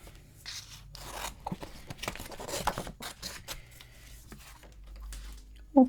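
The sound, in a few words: scissors cutting a piece out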